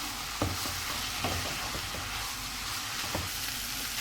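Mixed vegetables with chilies and fresh coriander frying on high heat for spicy spring rolls, giving a dense, constant sizzle with a few soft stirring knocks, close up and with no voices.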